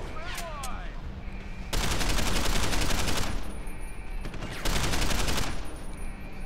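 Automatic gunfire in Deus Ex: Human Revolution rattles in two long, loud bursts, each lasting over a second, with the game's ambient noise and a man's brief speech in the gaps between them.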